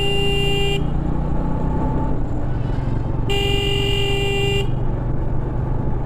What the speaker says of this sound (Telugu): లారీ వస్తుంది అనుకుంటా, ఐ థింక్. ముందు తెగ హారాన్లు కొడతాడు